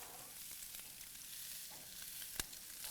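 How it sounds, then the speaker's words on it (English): Quiet, steady sizzling crackle of rib eye steak on a hot barbecue grill, with a sharp pop partway through and no voices. "Can you hear that sizzle?"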